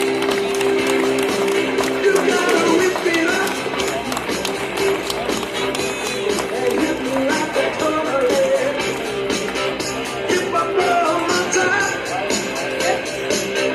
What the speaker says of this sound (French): avec encore une fois les applaudissements du public pour Gilles Roca, Nicolas Matas